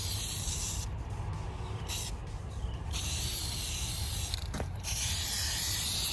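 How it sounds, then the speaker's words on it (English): A spray can laying a heavy coat of paint onto removed engine parts during a Pontiac G8 LS swap, heard as a steady, close hiss with a few brief pauses as the nozzle is released. "This guy's so heavy with the spray."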